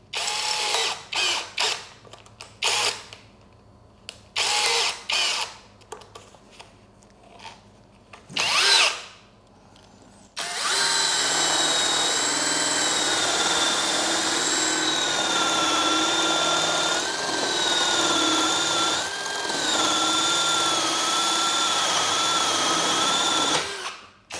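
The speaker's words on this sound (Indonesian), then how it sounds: "Lanjut kita coba mata bor kipas 16 mili." Bull BL26Li cordless brushless drill with a 16 mm spade bit, a loud steady whine bored continuously for about fourteen seconds after a series of short trigger bursts and handling knocks.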